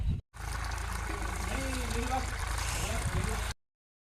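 An electric water pump motor runs in a farm field to fill water, giving off a steady low hum and drone close by. A voice talks over it.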